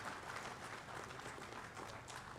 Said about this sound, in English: Now also you are hand clapping